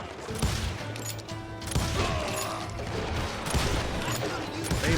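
Gunfire in the Western shooter video game Call of Juarez Gunslinger, a dense, fairly quiet volley of repeated shots and rattling impacts running throughout, with a narrator's voice over the top.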